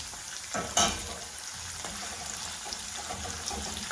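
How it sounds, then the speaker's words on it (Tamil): Lentils and cashews deep frying in oil over a low flame for a South Indian mixture snack, a steady close sizzle with a brief stir or clatter near the start. "மெல்லிய ஃப்ளேமில் அப்படியே பொரிச்சிடணும்"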